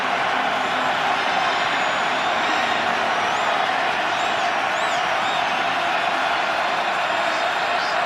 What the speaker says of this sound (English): Look at Kelsey getting this crowd sparked even more.